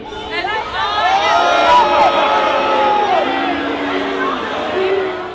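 Crowd at a political event in Melbourne: loud hubbub of many voices with shouts and calls rising and falling, sustained over several seconds, with talk over it.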